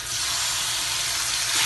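Ground pork hits a hot pan with garlic and onion, producing a continuous loud sizzle and hiss that holds steady throughout with no talking.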